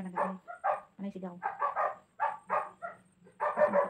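A household dog barks in a quick series of sharp yaps mixed closely with people talking and shouting indoors, the sounds overlapping in rapid bursts.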